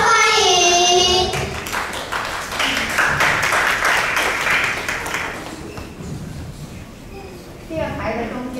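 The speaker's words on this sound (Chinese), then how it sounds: "请掌声欢迎" Applause from an audience at a private bilingual primary school's year-end party as a children's storytelling act is welcomed, a dense patter of clapping sustained for several seconds between stretches of talk.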